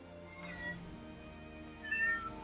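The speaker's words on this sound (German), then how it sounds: "Meine Katze möchte auch mal Hallo sagen." A pet cat meows softly twice, fairly close, over a low steady background hum, with no talking.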